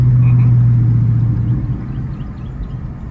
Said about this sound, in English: I love the exhaust